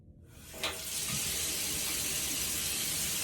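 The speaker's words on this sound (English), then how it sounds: "Then I'm going to turn on the warm water." Warm water running from a sink faucet in a handwashing setting, starting with a soft click and then a steady, close, continuous hiss of flow with no talk.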